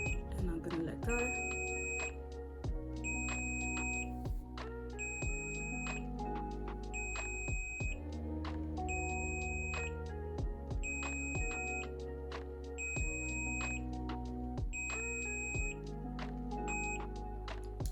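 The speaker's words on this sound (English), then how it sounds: "And when it stops beeping," A Silkwave automatic hair curler beeps in a steady electronic pattern every couple of seconds over a continuous low mechanical hum, small paired tones cycling evenly throughout.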